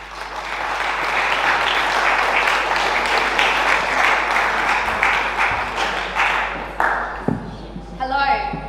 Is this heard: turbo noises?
no